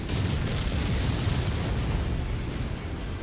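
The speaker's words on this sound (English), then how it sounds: "Incoming missile." A missile explodes in the MechWarrior 5 video game, producing a continuous loud, dense roar of blast noise that fills the whole stretch without a break.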